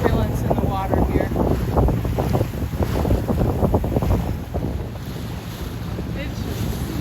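A boat runs at about 10 knots through very choppy, turbulent water with cross-currents off Friday Harbor, giving a steady rushing wash and slapping water under heavy wind noise on the microphone, and faint voices now and then.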